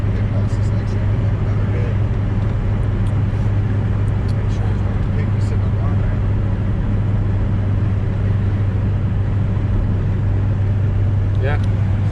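A street-tuned car's engine drones steadily through a 4th gear pull, heard from inside the cabin as a loud, constant low hum with road noise.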